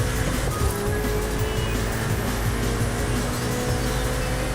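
A steady V8 car engine in Forza Horizon 5 drones continuously at an even pitch, loud and close, with a constant low rumble and no talk over it.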